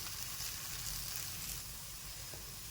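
Dal appe frying in the cups of an appe pan, giving off a constant, even sizzle that is faint and steady throughout, with no voices.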